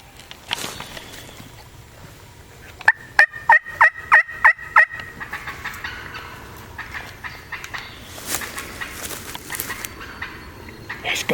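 A wild turkey gobbles in a rapid rattling burst of about seven notes, fairly close, amid quiet outdoor ambience.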